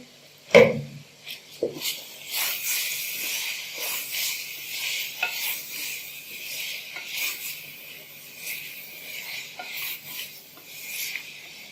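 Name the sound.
spices with red chili powder roasting in a pan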